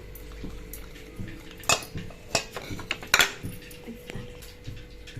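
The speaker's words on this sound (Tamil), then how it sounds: "இப்போ இந்த பருப்பை வந்து இதில் எடுத்து வச்ச பருப்பை மிக்ஸ் பண்ணிக்கிறேன்." Lentil batter for soi keerai vadai is mixed by hand in a bowl, with soft wet squelches and a few sharp clinks of utensils against the dish, close and quiet.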